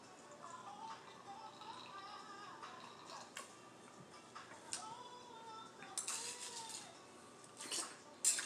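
Crushed ice from a big bag is stirred around in a container, producing faint clinking, scraping and crunching taps that come irregularly and grow a bit louder toward the end, close by with no talking.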